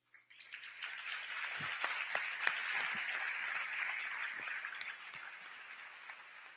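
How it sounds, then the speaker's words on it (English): Audience applause at an international UNESCO education event for students and teachers, swelling quickly into steady clapping from a crowd, with a few louder individual claps standing out, then tapering off. "All those ones who approve the joint declaration, please show your applause to us."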